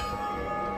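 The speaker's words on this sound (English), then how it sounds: "Someone else ringing the bell." A bell tolling in the video game Dark Souls Remastered, a sustained ringing tone that holds steady and fairly loud through the short moment, with no talk over it.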